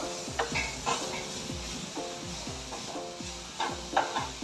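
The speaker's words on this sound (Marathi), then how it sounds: "रोस्ट करून घ्यायचं, व्यवस्थित फ्राय करून घ्यायचंय तेलामध्ये." Masala frying and roasting in oil in a pan for a mori catfish curry, with a steady sizzle broken by repeated scraping stirs at a regular pace, heard up close with no talking.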